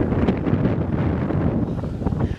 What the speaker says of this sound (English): It's just so windy today.